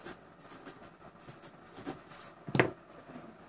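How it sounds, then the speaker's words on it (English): Pen scratching on paper while a measurement is written down by hand during stepper motor calibration on a RepRap Prusa Mendel 3D printer, quiet short scribbling strokes with one sharper tap near the end, close and faint. "So I'm going to write that down."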